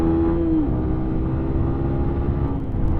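Yamaha YBR125 motorcycle accelerating hard to overtake, a close, steady engine drone with a rising then settling tone, loud and continuous with no talking.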